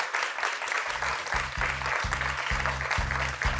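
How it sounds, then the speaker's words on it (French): Studio audience applause on a French TV quiz show, a steady wash of clapping with a rhythmic musical jingle pulsing underneath from about a second in. "Patricia, on peut vous applaudir."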